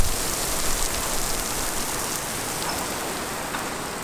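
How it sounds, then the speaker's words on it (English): A heavy rain shower in San Diego pours down as a loud, even hiss that starts strongest and eases slightly, with no voices. "Look at that rain."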